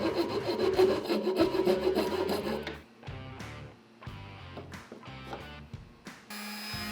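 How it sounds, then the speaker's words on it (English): Rough rasping strokes shaping the inside edges of wooden table saw push blocks, close by: a dense, steady run of scraping, then slower strokes with short pauses between them. "I needed to use a rasp to shape the inside edges."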